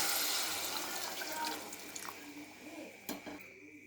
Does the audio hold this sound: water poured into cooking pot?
yes